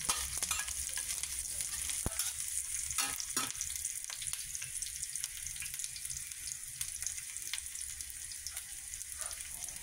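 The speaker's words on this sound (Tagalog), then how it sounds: "iginisa ko na po yung bawang sibuyas at saka luya" Garlic, onion and ginger sautéing in a pan, a steady soft sizzle with occasional stirring clinks and scrapes, close and fairly quiet, with no talking.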